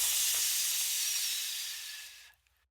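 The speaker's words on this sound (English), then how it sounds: "Hiss! A thick column of steam burst upward." Steam bursts upward with a loud, sustained hiss as glowing sludge pours into fast-moving river water, holding steady for over two seconds before abruptly cutting off into near silence.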